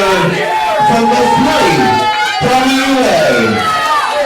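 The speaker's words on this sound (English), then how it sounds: "Are the fans cheering that stipulation?" Crowd of wrestling fans at an independent wrestling show cheering and shouting, a loud continuous roar with voices rising and falling, an announcer's voice talking over it throughout.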